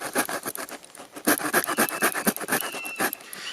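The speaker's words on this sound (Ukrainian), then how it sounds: "дуже зла пилка, дуже так вгризається в деревину, різ до себе правильний" Multitool saw cutting a pine board by hand, rapid rhythmic rasping strokes with sharp scratchy bursts, close and fairly loud.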